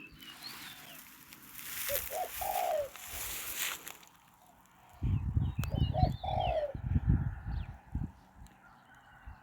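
Zebra doves coo in soft, rolling phrases at a hunting spot around dusk, with several call bursts spread across the clip over low, rumbling background noise from handling nearby.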